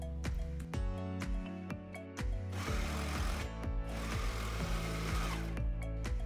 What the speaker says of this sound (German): Die nähen wir dann zu und zwar am besten mit der Overlockmaschine.